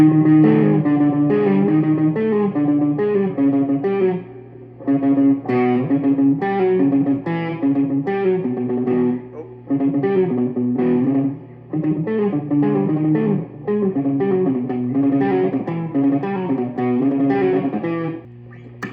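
A distorted electric guitar plays a repeating riff with squealing pinch harmonics, steady and loud, with brief pauses between phrases.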